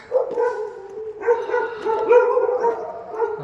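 Dogs in Manali give close, loud whining barks and yelps in a rapid run of tonal, whimpering calls with no one talking.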